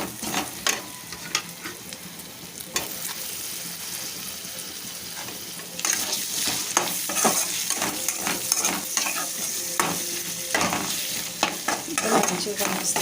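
Tomatoes dropped into hot oil with garlic paste for egg curry, a close sizzle that swells louder partway through, with repeated spoon scrapes and taps against the pan as it is stirred; no talk.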